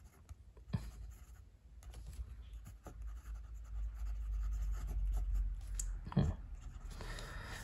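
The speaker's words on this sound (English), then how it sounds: "Nice pen. Simple, smooth writing." Fountain pen with a medium nib and Diamine Terracotta ink scratching softly across paper, a faint, close, steady writing sound with brief louder strokes and no talking.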